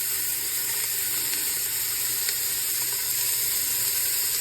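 Onion sautéing in avocado oil in a pan gives a steady, even sizzle and hiss that holds unbroken throughout.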